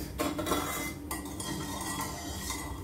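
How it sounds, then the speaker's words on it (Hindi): A spoon stirs amla murabba through melted sugar syrup in a pot, continuous scraping and clinking of metal against the pan, close and steady for a few seconds. "चलाते रहेंगे। देखिए चीनी मेल्ट हो गई है,"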